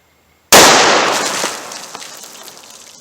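A .357 Magnum full-sized handgun fires a single Federal Hydrashok round into water jugs outdoors, one sharp, very loud report after brief silence, followed by a fading echo tail.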